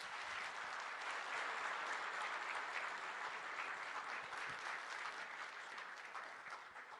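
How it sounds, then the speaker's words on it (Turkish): An audience gives sustained applause while seeing off visiting state guests at a formal event, a steady, crowded clapping that fades slightly toward the end, heard faintly and at a distance. "kuvvetli alkışlarımızla uğurluyoruz"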